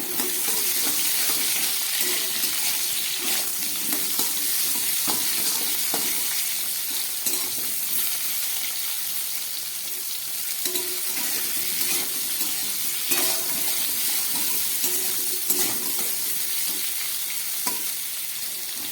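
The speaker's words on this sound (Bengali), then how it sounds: "আর দিয়ে দিচ্ছি দুটো চেরা কাঁচা লঙ্কা আর দিয়ে দিচ্ছি কেটে রাখা সবজি" Slit green chillies and chopped vegetables fry in an oiled pan over raised gas heat while a thin koi fish curry is prepared, giving a loud, steady, close sizzle throughout with occasional stirring scrapes and no talk.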